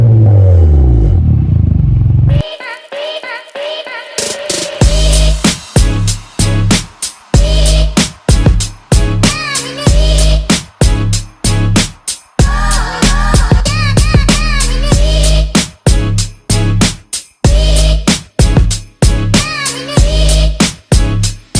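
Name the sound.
Honda Civic FE exhaust revving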